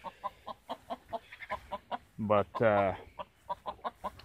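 Gamefowl chickens cluck in quick, evenly spaced bursts close by, with a louder, longer crow-like call in the middle, while a voice speaks briefly.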